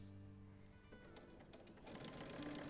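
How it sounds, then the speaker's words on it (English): A domestic sewing machine stitches binding down the side of a quilt, giving a quiet steady hum that turns into a busier, rattling whir partway through, close up with no talk. "I'm just stitching all the way down the second side of the quilt now"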